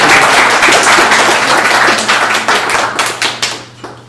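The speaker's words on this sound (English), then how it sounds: "can we give a warm round of applause for the insights?" Warm applause after a fireside chat, full clapping at first that thins into a handful of separate claps as it dies down, with a low steady hum underneath.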